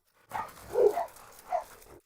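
Dogs, among them a Doberman, give a few short barks and yips close to the microphone, about three bursts in two seconds with brief quiet between them.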